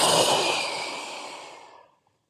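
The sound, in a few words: deep exhale during breathing exercise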